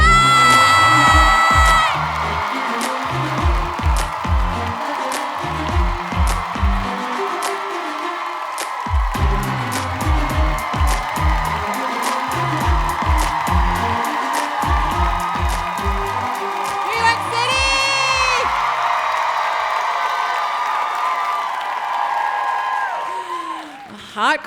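Comedy special crowd at a stand-up show cheering and whooping loudly at the start as the comedian takes the stage, with someone talking over the music and another burst of cheers partway through.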